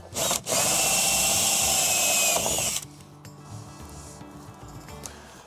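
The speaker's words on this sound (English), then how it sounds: "I'm going to use this 1-inch bit, and I'm just going to drill a nice hole." A power drill with a 1-inch bit bores a hole, a loud high whine for a couple of seconds, then winds down to a quieter mechanical hum.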